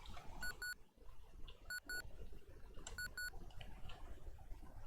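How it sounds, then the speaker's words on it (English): In the video game ZZT, a looping electronic alarm plays short repeating bursts of double beeps, three pairs in a row, bright and thin, over a dense, noisy background. "And then it just loops this little alarm."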